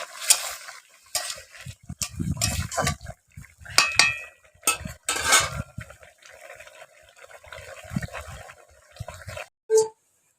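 Prawns tipped into a pan over a village clay stove and stirred, irregular scraping and clattering strokes with soft sizzling in between, close up, ending in a sharp metallic clink; no voices.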